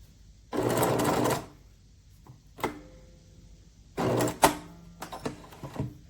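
Singer sewing machine appliqueing a double wedding ring quilt, with two steady bursts of fast stitching, each about a second long, and light clicks and clunks of handling between them, close and clear.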